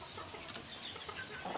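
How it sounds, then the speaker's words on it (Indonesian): Three chickens, a rooster and two hens, cluck softly inside their coop, faint and close against quiet background noise. "Di dalam kandang ini ada 3 ekor ayam teman-teman. Ini yang ayam jantannya, terus ayam betinanya ada 2 ekor."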